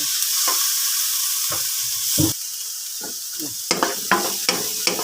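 Onion and tomato sizzle and fry in a hot pan while being stirred, a steady close hiss broken by several scraping stir strokes that grow busier toward the end, with no talking.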